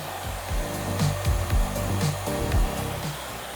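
A salon hair dryer blows on highly textured hair, its steady whir rising and dipping as the airflow moves through the hair. It sounds close and continuous, with no one talking.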